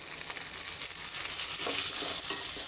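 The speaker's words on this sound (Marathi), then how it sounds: "आता आपल्याला हे तांदूळ परतून घ्यायचे" Rice sizzles and fries steadily while being sautéed in ghee with cardamom, with a soft stirring scrape now and then over the continuous close hiss, and no voices.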